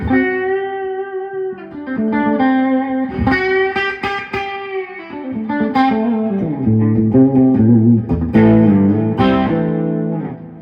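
Electric guitar played through a Carl Martin Headroom Mini reverb pedal, ringing chords and single notes with a slight grit, each phrase trailing into a swelling wash of reverb, loud and alone with no talk.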